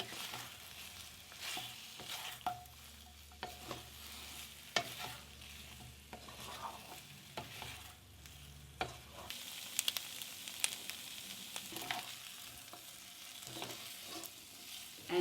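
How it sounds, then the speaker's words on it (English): Chicken with bamboo shoots, pounded ginger, garlic and Szechuan peppercorns stir-frying dry without oil in a pan, a quiet sizzle broken by irregular spatula scrapes and knocks, with a low hum fading partway. "Stir and cook it for 2 more minutes."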